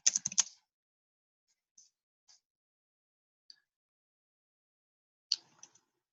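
Typing on a computer keyboard to run a Google search, a quick cluster of clicking keystrokes at the start, then a few sparse isolated taps and a short final burst, close and quiet.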